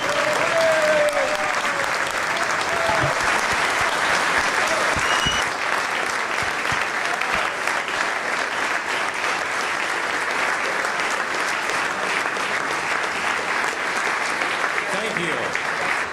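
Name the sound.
audience applause approving new UCLG president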